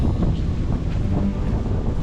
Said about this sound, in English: it's a bit too windy to fly the drone this morning.